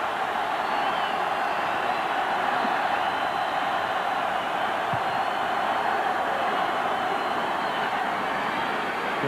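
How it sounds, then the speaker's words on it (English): Stadium crowd at a college football game between Alabama and Auburn roars steadily, a dense, continuous wall of cheering from fans on their feet, loud and unbroken throughout. "Crowd on their feet down to our right."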